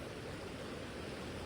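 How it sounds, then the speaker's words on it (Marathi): River water flowing steadily below a dam after heavy rain, a continuous broadband rush that stays even and fairly faint throughout, with no voices. "पाणी बऱ्यापैकी फ्लोनी चाललं आहे."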